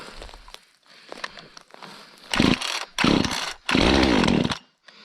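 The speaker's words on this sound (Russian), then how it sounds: "Вот сейчас мы это дело допилим" A newly overhauled gasoline chainsaw revs loudly in three long bursts while finishing a cut through wood, separated by short pauses, after quieter tapping and handling noises; the saw sounds close and harsh.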